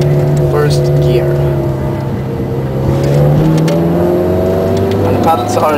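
Ferrari 430 Scuderia engine pulling hard in first gear, heard from inside the cabin as a loud rising drone with pitch climbing steadily, one brief dip and recovery, and a voice briefly over it.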